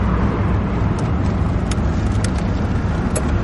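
A car cruising along Highway 12 near Lolo, Montana, with steady close road and engine rumble throughout and faint higher tire hiss, with no talk.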